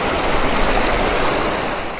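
Water rushes steadily through a mountain stream channel on the trek toward Nanga Parbat base camp, a loud unbroken broadband roar heard close with no voices.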